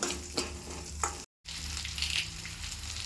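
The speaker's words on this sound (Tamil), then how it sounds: "இது ரெண்டும் சேர்ந்து நல்லா இந்த எண்ணெயில் வதங்கட்டும் அடுப்பை சன்னமாக வச்சுக்கலாம்" Garlic and onions sautéing in oil on a low flame for a dried-fish dish: a steady soft sizzle and crackle close by, with a brief dropout midway, no talking.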